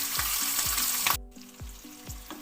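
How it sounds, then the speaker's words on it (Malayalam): Masala-rubbed sardine roe frying in hot coconut oil with curry leaves, a loud, close crackling sizzle that drops off sharply partway, with a regular low knocking underneath, no talking. "മസാല തിരുമ്മി വെച്ച മത്തി മുട്ട ഇതിലേക്ക് ഇട്ട് കൊടുക്കാം"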